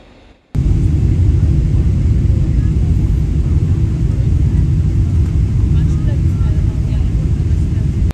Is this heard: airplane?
yes